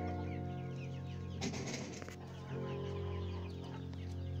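Sultan chickens cluck and chirp close by over a steady, humming background, with a brief busier flurry of flapping and clucking midway.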